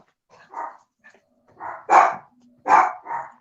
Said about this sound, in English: The guard dogs are here.